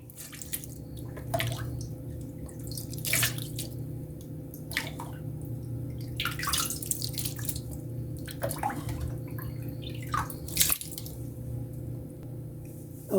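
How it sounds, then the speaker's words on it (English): Homemade Jamaican ginger beer trickles through cheesecloth in soft, irregular splashes and drips, scattered over a steady low background hum. "And now we're going to pour it in the cheesecloth."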